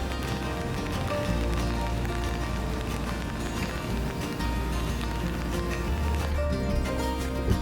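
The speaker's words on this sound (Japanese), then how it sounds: "強い雨粒の音が孤独を引き立てていきます。" Heavy raindrops pelt steadily on the eve of a typhoon, heard from a DIY kei-truck camper at a mountain parking area. The dense, continuous patter stays loud and close throughout with no voices.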